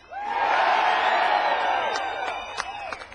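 A large crowd of about 15,000 people at a political rally roars and whoops in a sustained wave of cheering that gradually fades, with scattered shouts near the end.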